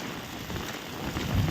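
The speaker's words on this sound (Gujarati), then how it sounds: "પેલો વરસાદ છે ને બાકી હમણાં બીજો વરસાદ આવશે" Rain falls steadily under dark clouds with a light breeze, in a short burst of dense, hissing patter that swells slightly toward the end.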